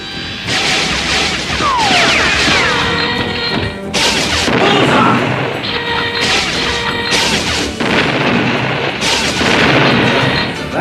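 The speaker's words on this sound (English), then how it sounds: "That's what I call real shooting." Cartoon gunfire during target practice in RoboCop: loud bursts of rapid shots and crashing impacts in several clusters, with short gaps between volleys and mechanical clanks.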